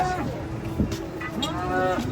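Cattle being unloaded from a truck moo loudly and repeatedly, several drawn-out calls close by, with faint crowd noise behind.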